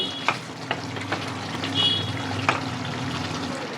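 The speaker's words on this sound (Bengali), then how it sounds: "সব কিছু দিয়ে আবারও বেশ খানিকক্ষণ ভালো করে নাড়িয়ে নেব।" Kadai chicken with chopped coriander stirred in a pan, a soft continuous sizzle with several distinct spoon scrapes and taps against the metal, close up, no talk.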